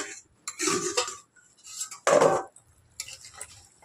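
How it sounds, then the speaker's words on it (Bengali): A singhi fish curry is stirred in a pot and then covered with a lid: bursts of metallic scraping and clinking come in separate clusters, with a sharp clank near the middle, close and fairly loud. "ঝোলের মধ্যে দিয়ে দেবো দিয়ে এবার নেড়ে চেড়ে দিয়ে ঢাকনা চাপা দেবো"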